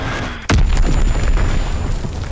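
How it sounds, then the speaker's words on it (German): An incoming enemy bomb detonates in a war video game with a sudden loud boom, followed by a rumbling decay and lingering low roar. "feindliche Bombe im Anflug"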